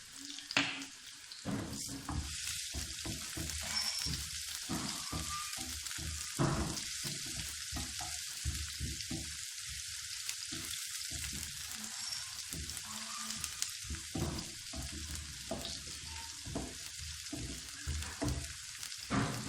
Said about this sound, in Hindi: प्याज को हम हल्का फ्राई कर लेंगे